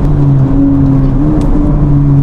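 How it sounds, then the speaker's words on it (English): Turbocharged engine of a 316 bhp Honda Civic Type R FK8 on a race track, droning loudly and steadily under load as it accelerates, with a sustained tonal whine and no talk over it. "You can just short shift it, and you'll still be moving because that turbo is spalling."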